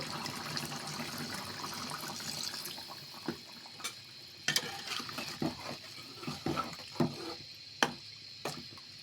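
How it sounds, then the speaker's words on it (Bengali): Water poured into a pot of cooking bottle gourd with rohu fish, a soft liquid trickle over a low hiss, followed by scattered clicks and knocks of utensils. "আমি আর একটু পানি অ্যাড করে দিব।"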